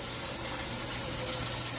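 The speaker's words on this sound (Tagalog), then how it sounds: "Malakas ang tubig." Strong water gushes from a tap in a steady, even rush, close and fairly quiet, with no talk over it.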